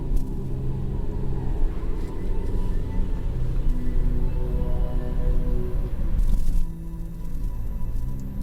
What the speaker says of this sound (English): pulled the car to a halt in front of a large stone mansion